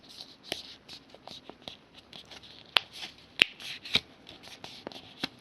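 Paper being folded for a handmade paper rose, crisp close rustles and sharp creasing snaps scattered irregularly, with quiet crinkling between them.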